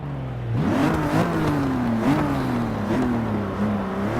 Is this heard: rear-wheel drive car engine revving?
yes